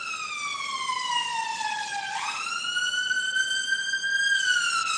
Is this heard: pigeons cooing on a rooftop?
no